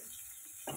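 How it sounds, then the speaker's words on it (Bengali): Turmeric and green chilies fry in oil in a pan while cooking fish, a quiet, steady sizzle with a short, louder scrape of stirring near the end. "দিয়ে দিচ্ছি পরিমাণ মতন হলুদ। তো এটাকে ভালো করে একটু ভেজে নেব।"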